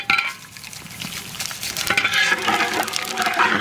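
Whole cumin, dried red chillies and bay leaf sizzling in hot oil for a Bengali cauliflower dish, a close continuous crackling fry with stirring scrapes and spoon clinks.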